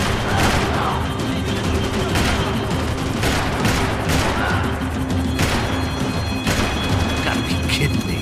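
Gunfire in the video game Max Payne 3, with a rapid string of loud, punchy shots and crashing impacts repeating throughout, close and intense over a busy action-game background.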